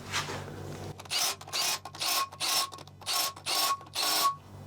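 Socket ratchet turning flywheel bolts on a budget drag car in a garage, heard as seven or eight short bursts of rapid clicking with brief pauses between, close and moderately loud.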